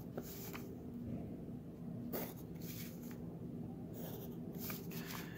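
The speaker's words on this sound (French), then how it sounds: "Donc je vais dessiner un losange" A marker or chalk draws a rhombus on a board, giving quiet, separated scratching strokes with pauses between lines, faint and close.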